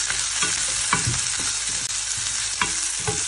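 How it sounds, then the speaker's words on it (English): Onions sautéing in hot oil with cinnamon, cardamom and cloves for a simple chicken curry, a steady broad sizzle with repeated scrapes and clacks of a spoon stirring the pan, close and fairly loud. "Add onions and saute well"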